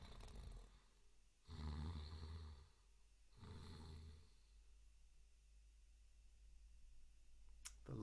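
A storyteller imitates a sleeping lion snoring with two long, rasping breathy snores spaced a couple of seconds apart, close and fairly loud against quiet room tone.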